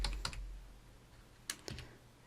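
Keystrokes on a computer keyboard as an R script command is typed: a few sparse, quiet clicks in two small clusters with near-silence between them.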